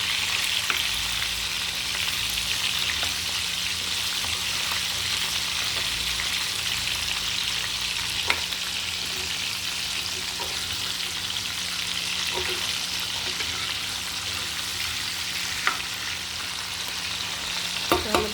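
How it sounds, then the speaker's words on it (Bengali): Tilapia pieces frying in hot oil for a fish and eggplant dish, a steady close crackling sizzle that runs unbroken throughout with a few sharper pops and no talking. "একটু যদি বেশি ভাজা হয়ে যায় তাহলে আরেকটা পিস কেউ আরেকটু কমিয়ে ভাজিয়ে নেবে"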